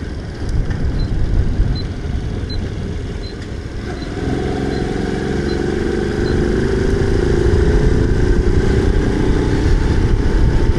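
A small Honda 90 motorcycle engine drones steadily while riding near a motorway, loud and close, holding a constant buzzing note with a slight rise as it pulls on, no talk.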